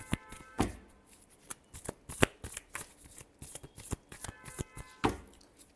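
Tarot cards shuffled by hand during a Libra reading: a dry run of crisp riffling flicks and taps, close and fairly quiet, with sharper snaps near the start, middle and end.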